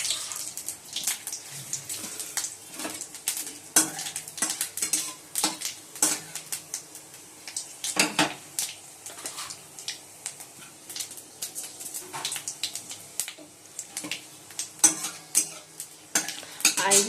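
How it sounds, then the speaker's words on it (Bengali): Panch phoron spices sizzle in hot oil in a wok, a steady close crackle broken by frequent scraping stirs and clinks of a spoon against the pan, with no talking. "কড়াইতে তেলও দিয়ে দিচ্ছি। এবার 5 ফোড়ন দিয়ে দিলাম।"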